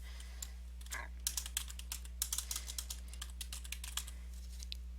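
Rapid typing on a computer keyboard, a steady run of light clicky keystrokes with irregular rhythm over a low electrical hum, close and fairly quiet with no talking.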